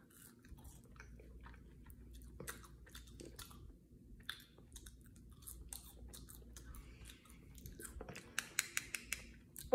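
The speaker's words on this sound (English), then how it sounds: "let's try my last sauce with the fry." Close-up chewing of a fry dipped in barbecue sauce, soft crunchy bites and mouth sounds repeating at a quiet level, with a few sharper clicks near the end.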